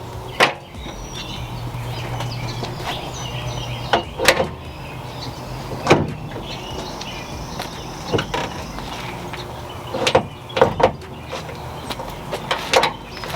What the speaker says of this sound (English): So we're gonna try to close the hood and see if it works.